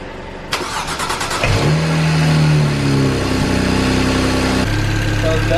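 A BMW N54 engine, freshly swapped in after a rod knock failure, fires up and revs loudly, its pitch climbing and then settling into a steady, strong idle, with the sound continuous and close throughout.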